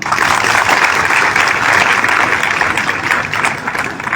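A crowd at a political rally applauds steadily and loudly, a dense, continuous wash of clapping that holds at even strength without pause.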